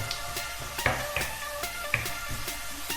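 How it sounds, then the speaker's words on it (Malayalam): Ginger-garlic paste sautéing in a pan for a Kerala chicken biryani, giving a soft, continuous sizzle broken by regular sharp scrapes and taps from stirring, at low volume with no voices. "ഇഞ്ചിയുടെയും വെളുത്തുള്ളിയുടെയും പച്ചമണം ഒന്ന് മാറി വരുന്നതുവരെ ചെറുതായിട്ടൊന്ന് വഴറ്റി കൊടുക്കാം"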